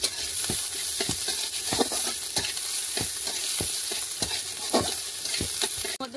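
Chopped onion with dried and green chillies sizzle and fry in a wok, a dense steady hiss with regular scraping stir strokes, close and alone without talk.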